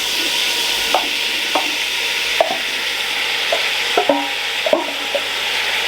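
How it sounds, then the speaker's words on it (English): Lamb and onions stirred inside a Ninja Foodi Max pressure cooker, a steady background hum with a series of separate spoon knocks and scrapes against the pot, close by. "I'll give it a quick stir around"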